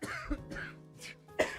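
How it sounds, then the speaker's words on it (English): Several quick, throaty coughs in a radio studio, close and somewhat faint, spaced unevenly with a final sharper cough at the end. "Just coughed right on draft."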